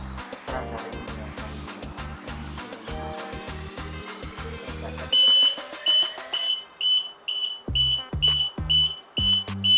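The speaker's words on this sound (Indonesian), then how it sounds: "Menggunakan buzzer." A buzzer from a remote anti-theft alarm fitted to a Yamaha NMAX motorcycle gives a dense run of rapid beeping pulses, then a series of short high bleeps alternating with low buzzing bursts, heard close up.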